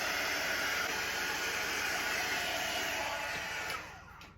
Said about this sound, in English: we're going to go ahead and hit it up with the heat tool